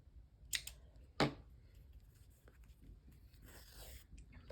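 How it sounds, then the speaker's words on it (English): Scissors cut a length of crochet yarn: two crisp, close snips about half a second apart in an otherwise quiet room, followed by faint handling rustles. "cut myself a length of yarn"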